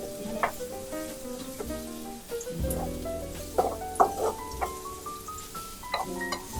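Chopped garlic hits a pan of already-fragrant onions and sizzles steadily, with a few utensil clinks and stirring sounds under prominent background music.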